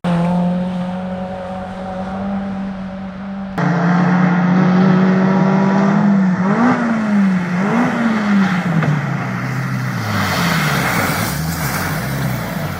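A rally car at the 2022 Grimwade Stages Rally drives a stage with a loud, close engine note, revs rising and falling through gear changes as it accelerates away.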